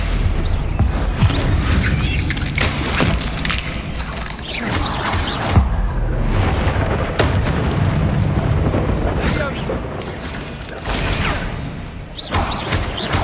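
Bombarda spell explosions in Hogwarts Legacy combat, a dense run of heavy booms and crashing blasts layered with magical effects, loud and continuous throughout with repeated sharp bursts.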